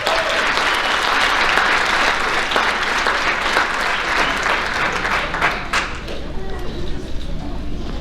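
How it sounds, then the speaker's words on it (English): Sustained applause for a girls' varsity track team at a high school athletic banquet, a loud, dense crowd of clapping that thins out toward the end, with voices in the room. "Let's give all these ladies one more round of applause"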